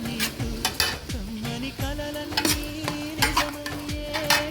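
Ginger paste frying in a pan for biryani, a steady sizzle broken by repeated scraping and clinking of a metal spoon stirring against the pan, close and fairly loud with no talk.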